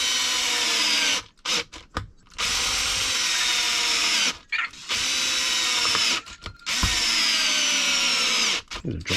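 A power driver whirs loudly in long bursts, its motor pitch sliding as it loads, broken by short gaps and brief ratcheting stops, on a repair bench with stripped screws.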